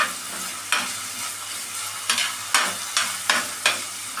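Salted tomatoes sauté in a pan under a soft steady sizzle, with a handful of sharp spatula scrapes and stirring strokes landing at uneven intervals, nearby and alone.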